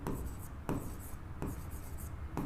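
A teacher writes notes on a board with chalk or marker during a biology lesson, producing scratchy strokes with sharp taps roughly every 0.7 seconds, fairly close and steady with no talk.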